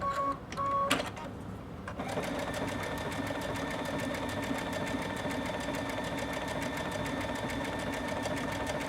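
A sewing machine runs a blanket stitch around fuchsia appliqué petals, with steady, evenly pulsed stitching that continues after a brief uneven start, close and fairly loud.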